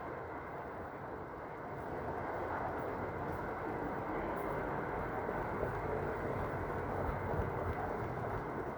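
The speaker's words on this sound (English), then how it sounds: "The train to Finch is coming in 2 minutes." A Toronto subway train to Finch pulls into the station, a rising low rumble and roar that builds after the first couple of seconds and holds steady at close range, with no one speaking.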